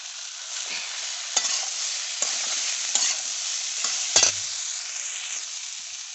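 Ridge gourd with poppy seed paste stirred in a pan, giving a soft continuous sizzle broken by several distinct scraping strokes at uneven intervals.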